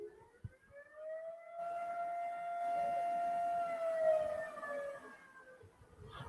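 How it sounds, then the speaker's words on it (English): A civil defense siren winds up and holds a long, steady wailing tone, loud and carrying, then slowly falls away toward the end. "You'll hear the siren again."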